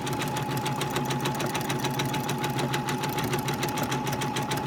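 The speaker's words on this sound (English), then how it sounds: "So I'm going to go ahead and just continue my row of quilting here as I go." Sewing machine running steadily while stitching a meander quilting row, its fast, even mechanical hum and rapid needle clatter continuous and close throughout, with no talk.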